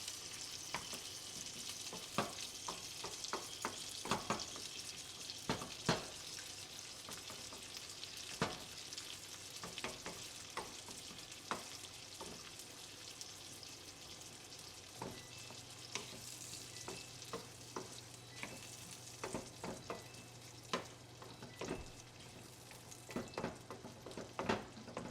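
Eggs with asparagus and prawns fry in a pan, a steady soft sizzle running throughout, with frequent light clicks and scrapes of stirring close by.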